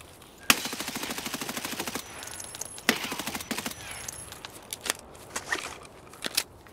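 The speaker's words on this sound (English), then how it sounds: "He's shooting us through a window." Sniper scav gunfire in Escape from Tarkov, rapid bursts of sharp cracking shots followed by scattered single reports, loud and close, with brief speech.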